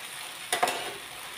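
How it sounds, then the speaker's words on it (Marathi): Cooked sabudana khichdi being stirred in a pan, with two quick scraping, clinking strokes of a spoon against the metal over a soft background hiss. "आता आपण आता हलवून घेऊया एकसारखी।"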